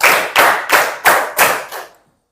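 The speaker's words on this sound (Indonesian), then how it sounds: "Tepuk 1 kali, tepuk 2 kali, tepuk 3 kali, tepuk 5 kali." A group on a job-training course claps together in a patterned sequence, giving five loud, evenly spaced claps close by before falling silent.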